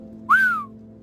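A narrator's voice imitates a single short whistle, rising then gliding downward, clear and close over a faint steady hum.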